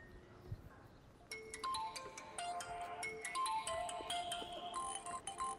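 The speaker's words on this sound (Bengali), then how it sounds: "ফোন বাজছে আমি জানি, সেটা আপনার বলতে হবে না।" A mobile phone rings indoors with a bright electronic melody of layered tones that swells after a quiet start and carries on steadily, fairly near, with no talking.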